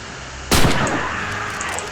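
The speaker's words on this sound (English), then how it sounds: "did you see that amazing sniper shot?" A single sharp sniper rifle shot in the Red Orchestra 2: Heroes of Stalingrad video game cracks loudly out of near silence, followed by a long, echoing decay.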